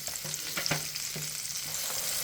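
Green chili peppers, washed and drained, stir-fry in a generous amount of oil in a frying pan with a steady close sizzle and a few stirring clicks, no talking.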